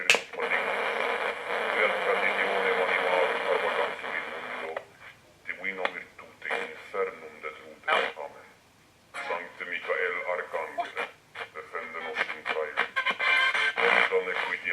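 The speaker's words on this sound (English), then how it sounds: "Let's see if we can mix this with a ghost box." Ghost box radio sweep blended with a steady ear-piercing tone, giving loud continuous noisy static broken by choppy bursts and brief dropouts, fairly close and alone.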